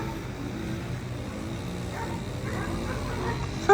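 A dog, a good boy being trained on obedience and play, gives soft yips and whimpers with a low woofing bark amid steady outdoor background noise, with a brief louder bump at the end.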